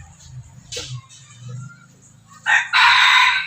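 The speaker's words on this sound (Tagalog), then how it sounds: "Ganda ng tilaok niyan." A rooster crows loudly near the end, after a quiet stretch with faint low murmuring and a brief bump.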